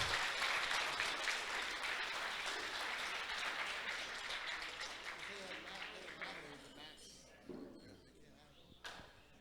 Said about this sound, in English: Give them one more big round of applause